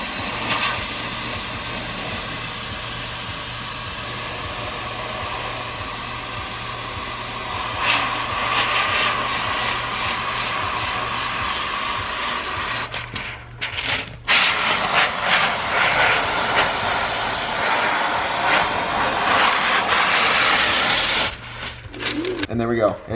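A loud, continuous steam hiss from a steamer loosening the tint glue on a car windshield. It runs nearly unbroken, with a couple of short pauses near the end, and no voice is heard.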